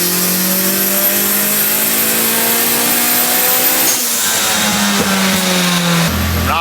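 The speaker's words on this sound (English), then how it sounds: "we're gonna let the car warm up a bit, and we're getting right into the boost pulls today" Car engine warming up before boost pulls, idling loud and close with rising and falling revs, then a sharp change in pitch near the end as the throttle shifts.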